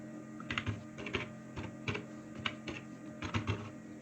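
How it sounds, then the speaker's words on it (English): Computer keyboard typing in a quiet room, with short bursts of keystrokes in several clusters, moderately close and fairly soft, and no voices. "Then type your first name and last name."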